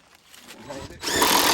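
A power drill driving screws into old wooden railway sleepers, starting quiet and then whirring loudly and steadily for the last half second, with a voice briefly heard.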